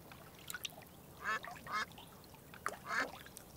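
A few duck quacks spaced apart, fairly close, with a faint watery trickle underneath.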